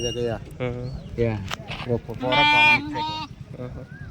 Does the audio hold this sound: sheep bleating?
yes